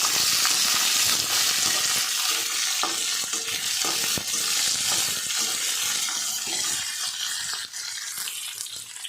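Coriander, ginger, onion and chili fry in a pan for piradai dosa, a loud bright sizzle broken by frequent scraping stirs and clicks of the spatula, with no talking.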